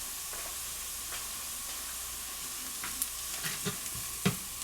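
Omelet with lobster and asparagus sautéing in a pan, a faint steady sizzle with occasional soft stirring clicks and scrapes growing a little busier toward the end, no voices.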